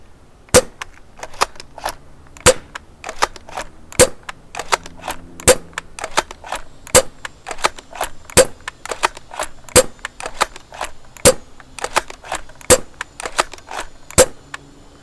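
Worker Prophecy foam dart blaster fitted with new metal internals and a spring cut down about two coils, firing ACC darts: a long series of sharp, loud snapping shots in a steady rhythm roughly once a second, with nobody talking.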